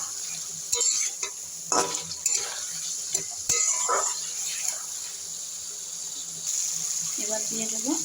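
Fried radish and potato tossed into spiced masala sizzle steadily in the pan while a spoon stirs and scrapes in irregular bursts, close and fairly loud.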